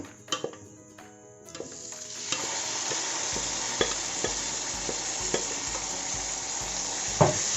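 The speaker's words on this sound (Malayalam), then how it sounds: "ഇനി നമുക്ക് എടുത്തു വെച്ചിട്ടുള്ള വേവിച്ച ബീഫ് ചേർത്തി കൊടുക്കുക." Cooked beef stirred into a hot masala for a spicy Kerala-style beef fry, a steady sizzle with repeated scraping stirs and occasional clinks of the spoon against the pan, close and fairly quiet.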